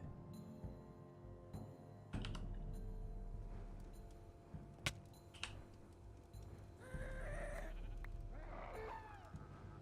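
Sheep in Minecraft, Project Ozone 3 modpack, bleating in a few short game-sound calls over quiet background, with a sharp hit sound between them.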